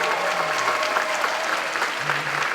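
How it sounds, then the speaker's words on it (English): At an evening awards ceremony honoring Teachers of the Year, a large audience delivers a continuous wash of applause, dense and even throughout the short stretch. "Let's have a big round of applause for all of our Teachers of the Year"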